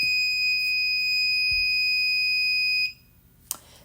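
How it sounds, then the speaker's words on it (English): A small electronic buzzer wired to a push button sounds a steady, piercing high tone for about three seconds, then cuts off, followed by a faint click. "it makes the buzzer go on for 3 seconds"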